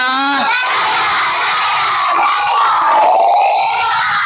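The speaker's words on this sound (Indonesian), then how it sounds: "Kalau Bapak bilang PJOK, kalian bilang Jaya, Jaya, Jaya. Teriak." A group of students at a school physical education lesson shout a loud rhythmic cheer chant in unison, several energetic bursts of massed young voices.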